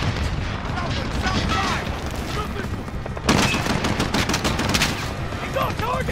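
Gunfire in the video game Modern Warfare, a dense continuous barrage of automatic shots with a sharper, louder burst midway, mixed with voices and battlefield noise.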